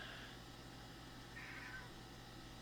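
A cat lets out two faint meows, one brief and one slightly longer, against a quiet indoor hum.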